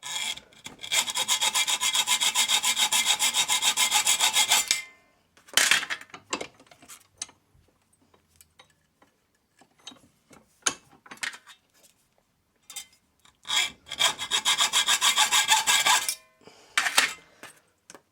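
Bungee cord hook ends being cut off by hand, long bursts of harsh rasping metal-on-metal sawing at the start and end, with scattered clicks and handling noises between them.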